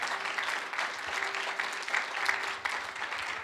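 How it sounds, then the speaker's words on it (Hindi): A church congregation claps together in sustained, even applause that holds steady throughout, moderately distant, with no voices over it. "क्यों ना प्रभु के लिए ताली बजाए।"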